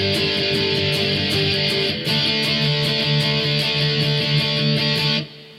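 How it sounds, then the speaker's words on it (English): Distorted electric guitar strums a couple of power chord shapes for a song, a loud sustained wall of sound with one brief break midway before it cuts off near the end. "It's just a couple of different power chord shapes."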